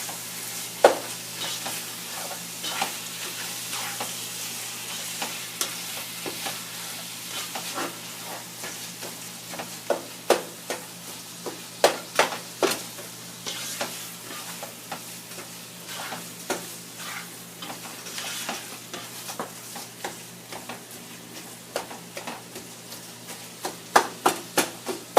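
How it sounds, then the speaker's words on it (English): Minced meat keema fries on a high flame in a pan for a long stretch, a steady sizzling hiss punctuated by repeated sharp scraping knocks as it is stirred and broken up, with no talking. "I'm going to fry it on high flame"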